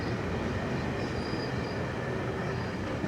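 A GO Transit commuter train rides between Toronto Union Station and Port Credit, its steady broadband rumble and wheel noise filling the space loud and unbroken, with a faint high squeal drifting through.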